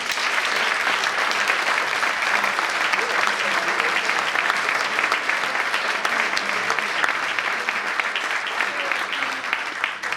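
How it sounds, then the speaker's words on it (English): Audience applause at an entrepreneurial studies pitch night, a continuous wash of many hands clapping at an even, strong level for about ten seconds. "So one final round of applause, please."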